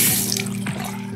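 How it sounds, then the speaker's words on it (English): Hot water runs from a sink faucet in a steady close splashing stream, loud and continuous with a few drips, no voices. "you can see the flow of hot water out of the faucet"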